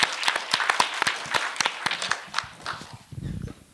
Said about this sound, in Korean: 다 같이 한번 박수로 한번 종합 토론을 기대해 보겠습니다